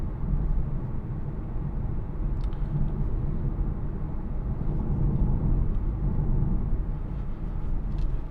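A 2016 BMW 420d M Sport with a 2.0-litre diesel engine accelerating out of a bend, heard from inside as a steady, loud low rumble that swells slightly throughout, with no talking.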